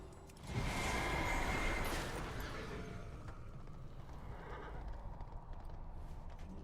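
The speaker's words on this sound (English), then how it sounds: "Horsey go vroom." A horse mount in World of Warcraft lets out a loud whinny over rapid hoofbeats at the start, then the galloping continues more quietly and evenly to the end.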